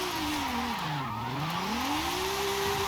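Datsun 240Z engine in Forza Horizon 5, loud steady note whose revs sink quickly toward about 3,000 RPM, then swell back up, with a hiss of tire noise beneath.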